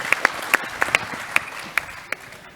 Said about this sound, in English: So let's give them all a big round of applause.